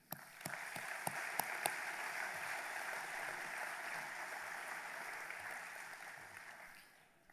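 Sustained applause from an audience at a young farmers' congress, a dense steady patter of clapping with a few sharper claps early on, fading out toward the end.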